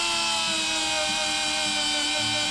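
A small angle grinder smooths welded metal on a Jeep XJ steering part, grinding down past Sharpie marks with a loud, steady, high-pitched whine that holds without a break throughout.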